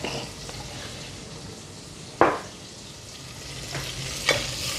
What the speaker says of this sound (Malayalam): And just give it a nice mix.